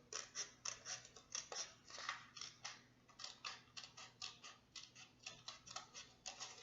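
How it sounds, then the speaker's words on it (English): Scissors snip repeatedly through paper while cutting out a hand print card, close, quiet and rhythmic, with steady crisp cuts and no talking. "we're going to turn our scissors and go back up"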